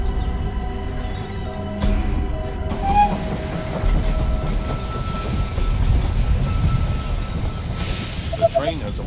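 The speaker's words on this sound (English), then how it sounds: "The train has arrived at the station." A train pulls into a station in the strategy video game They Are Billions, with rumbling rail noise, hissing and a brief wheel squeal near the end, mixed with electronic game tones and announcement-like voices.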